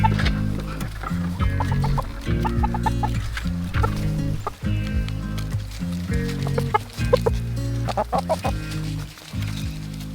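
A flock of free-range chickens clucking steadily and loudly while they peck and scratch at a backyard compost bin, overlapping calls close by throughout.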